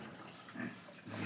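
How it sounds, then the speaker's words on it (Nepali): A pig on a farm gives a few low grunts, soft and close, in a brief quiet moment. "यता पनि छ सुँगुर।"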